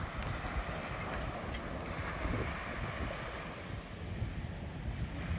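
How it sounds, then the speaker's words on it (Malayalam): Sea waves roll in at high tide on a sea fishing outing, a constant loud wash of surf mixed with wind buffeting the microphone, with no voices. "അപ്പോൾ തിര അങ്ങോട്ട് കൂടി കൂടി വന്നു തുടങ്ങി"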